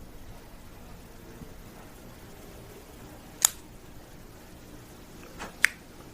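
A cutter clips the cap of a Joya de Nicaragua Antano 1970 cigar, giving a few small, crisp snips close by, one near the middle and two more in quick succession toward the end, over a quiet room hiss.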